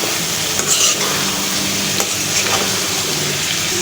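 Vegetable stalks frying in a pan, a loud, dense, steady sizzle with a few soft stirring scrapes, close up and without speech.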